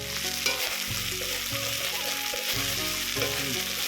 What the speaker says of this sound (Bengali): ভাজাটা দেখুন কি সুন্দর কালার আসছে।